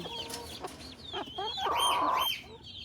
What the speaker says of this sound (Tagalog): ang mga sisiw gusto din